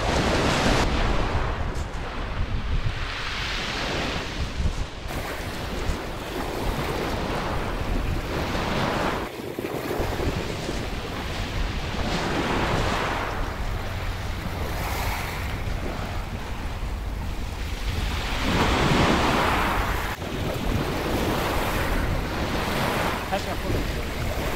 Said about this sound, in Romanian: Pe sunetul mării.